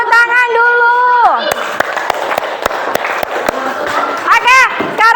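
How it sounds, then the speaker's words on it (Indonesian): A classroom of pupils clapping their hands in a quick, regular rhythm of sharp individual claps, close and fairly loud, with children's voices chanting and calling out over the beat at the start and end. "Tepuk tangan dulu"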